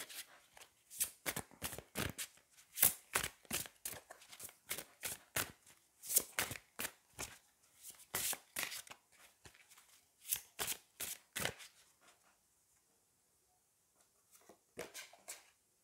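Tarot cards are shuffled by hand in quick, crisp riffling bursts that repeat steadily for several seconds, pause briefly, then resume; close and fairly quiet with no voice.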